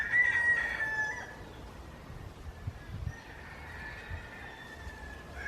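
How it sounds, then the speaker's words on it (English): A rooster crows once near the start in the Cayman Islands, a drawn-out call that fades, followed by a fainter crow later over a low outdoor rumble. "it's noisy, as you can see, like chickens and roosters everywhere"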